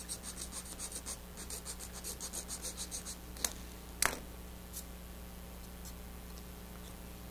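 A razor saw cuts through a plastic model rocket coupler with a quiet, steady rasping stroke rhythm, followed by a couple of sharp clicks and then near silence.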